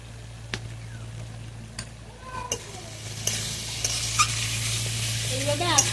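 Potatoes and freshly picked kharkol leaves sautéing in a pan with jackfruit seeds, a low sizzle beneath a steady background hum, with occasional spatula clicks and scrapes growing louder and busier near the end.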